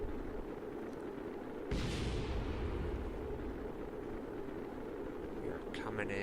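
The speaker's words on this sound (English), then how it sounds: "I don't like hearing explosions." In Kerbal Space Program, a fiery reentry roar rumbles steadily, then jumps into a louder, harsher explosive burst about a third of the way in and stays heavy and continuous, with no voices over it.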